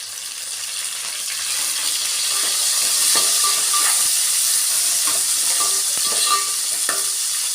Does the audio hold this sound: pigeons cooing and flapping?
no